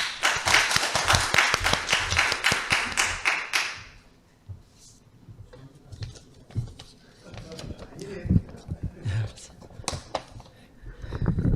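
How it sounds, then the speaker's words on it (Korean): Audience members at a humanities lecture forum clap steadily for about four seconds to welcome the foundation chair's address, then the applause stops and a speaker's voice takes over amid light room noise. "박수로 맞이해 주시기 바랍니다."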